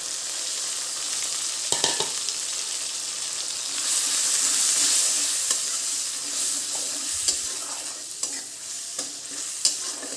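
Onion paste and ground spices sizzle in a pan for a Bengali ridge gourd and poppy seed dish, a steady close frying hiss broken by a few sharp stirring clacks of a spatula.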